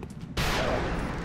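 A single gunshot rings out in the strategy game XCOM Long War, a sudden loud crack after a quiet moment, followed by a sustained rumbling tail that lingers to the end.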